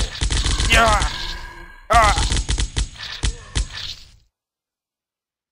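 Assault rifle gunfire in a helicopter zombie-wave video game: two loud rapid automatic bursts followed by a few sharper separate shots, then silence, with a brief spoken word.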